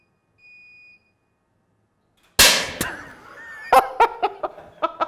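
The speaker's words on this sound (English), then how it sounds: "The test is applied when you hear the beeping sound." EMC surge immunity test equipment gives a single short electronic beep in a quiet room, then a sudden loud burst is followed by people laughing.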